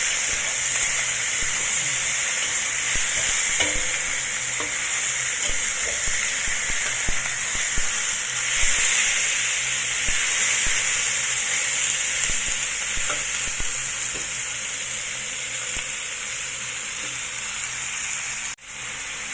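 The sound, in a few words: pork frying in a pan for adobo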